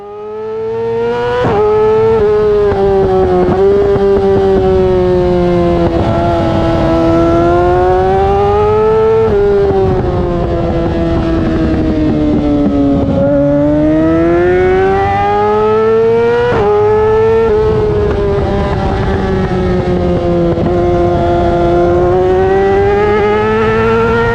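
A race car engine at Podium Club screams loud and close through an in-car run, holding a high steady tone that rises and falls with throttle changes and sharp gear shifts, alone without talk.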